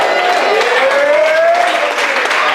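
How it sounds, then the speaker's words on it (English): Loud, continuous clapping and crowd noise from an audience, dense and close, with a voice-like tone gliding underneath. "Clap your hands for my man Dre."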